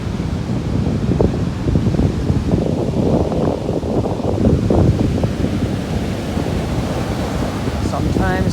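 Stormy Black Sea waves, reported at five to six meters, crash and roar near the shore in November while strong wind buffets the microphone, a loud, continuous surging rumble.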